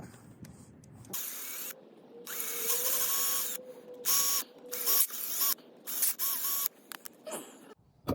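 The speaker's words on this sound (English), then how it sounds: "drill out these bolts" A power drill whirs in repeated bursts, starting and stopping with rising and falling pitch as it bores out bolts on a 1968-1971 VW Bus engine mount adapter plate, loud and close.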